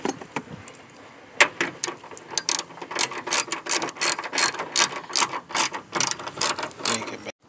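A ratchet with a 12 mm socket loosens the hood bolts on an Infiniti G35. It gives a long run of rapid, close metallic clicking with steady pulses and no talking.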